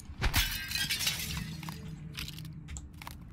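Looking Glass panel shattering in the video game Prey: a sharp, close burst of breaking glass followed by scattered tinkling shards and fading debris.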